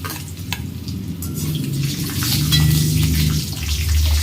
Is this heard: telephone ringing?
no